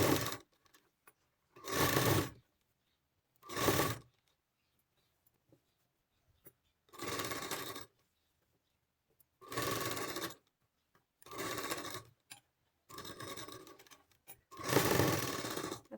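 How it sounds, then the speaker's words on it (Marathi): An electric sewing machine stitches a second, doubled seam while attaching a garment sleeve, running in about seven short, quiet whirring bursts separated by near-silent pauses. "दुसरी शिलाई अशी डबल पलटी घेऊन दुसरी शिलाई करून घ्यायची"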